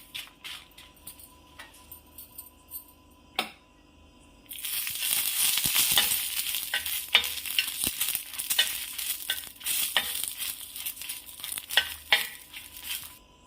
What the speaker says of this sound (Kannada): ಇವಾಗ ಗುಂಟೂರು ಮೆಣಸಿನ್ಕಾಯಿ ಹುರ್ಕೊತಾ ಇದ್ದೀನಿ